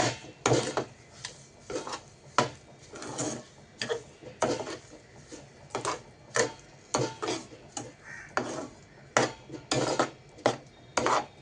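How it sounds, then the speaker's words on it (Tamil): A spoon scrapes steadily around a pan of thickening halwa with sugar stirred in, in about twenty close, rhythmic strokes with no talk. "அதையும் போட்டு நல்லா மிக்ஸ் பண்ணிக்கலாம்"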